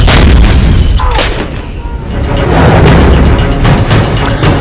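Howitzer artillery fire from an Indian Army gun, heard as loud, booming blasts with rumbling low-end roar sustained across the whole stretch, several thuds close together and no speech.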